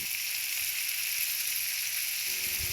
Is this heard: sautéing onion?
yes